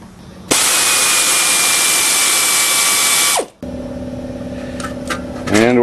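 Briggs & Stratton 9 hp lawnmower engine fitted for electric start roars to life loud and close, a harsh high-pitched whine for about three seconds, then cuts sharply and drops to a lower steady hum with a brief rising burst at the end.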